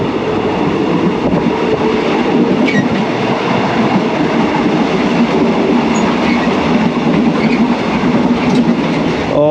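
A passenger train with all doors open rolls steadily along the rails between Ubon Ratchathani and Bangkok, Thailand, with rumbling wheels and rhythmic clacking, loud and close throughout with a brief squeal of metal.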